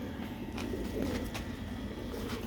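Paired Sialkoti pigeons coo softly in a loft, low murmuring calls against steady background noise.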